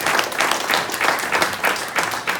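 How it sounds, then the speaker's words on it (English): Members at a club assembly give a round of applause, a moderate, fairly close group clapping that pulses unevenly for a couple of seconds. "Nice round of applause for all of our accomplishments"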